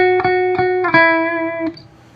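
A bright electric guitar lead tone triggered by a Disaster Area pedalboard controller button: several quick plucked notes repeating a clear pitch, followed by a final note that rings briefly and fades.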